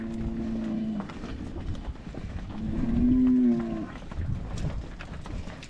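Cattle on a farm at calving time give two drawn-out moos, the second louder and closer, over a faint background of outdoor noise.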